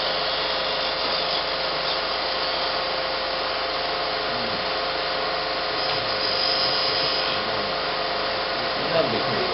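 A turning tool scrapes the inside of a wooden bud vase spinning on a lathe, a steady whirring hiss with faint rubbing texture, close and continuous throughout.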